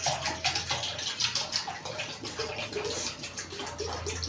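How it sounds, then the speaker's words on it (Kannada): Water poured into a vessel in a kitchen to make panaka, a sweet drink for Ram Navami, a continuous close gurgling splash with pulsing rises and falls over four seconds and no talk. "ಈಗ ಮೊದಲು ನೀರು ಹಾಕೋತೀನಿ ಪಾನಕ ಮಾಡಕ್ಕಂತ."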